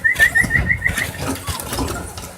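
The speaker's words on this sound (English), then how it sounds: "You're whistling, they think they're going to get fed." A person whistles a short repeated call to puppies at feeding time, a run of quick bright chirping notes in the first second, then fading under busy background noise and movement.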